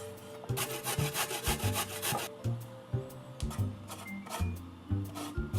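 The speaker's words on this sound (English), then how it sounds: "get a large carrot. We're going to grate this" A large carrot being scraped against a grater in a kitchen, producing a steady run of loud, close rasping strokes in an even back-and-forth rhythm that later breaks into shorter, separate scrapes.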